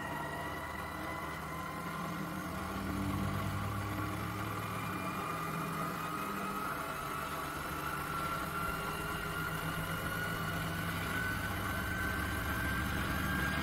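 Flywheel driven by a small DC motor in an energy storage demo, a faint steady electric whir and hum with a rising whine as the speed climbs, continuous and without talk.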